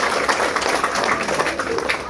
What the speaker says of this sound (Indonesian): Tepuk tangan untuk guru-gurunya.